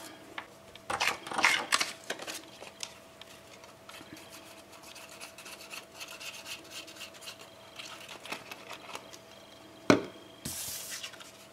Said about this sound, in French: Une fois que c'est collé, il faut le découper.